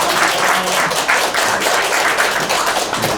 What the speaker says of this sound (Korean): 가슴 뜨겁게 열광해 주신 우리 조익현 강사님한테 큰 박수 한번 치겠습니다.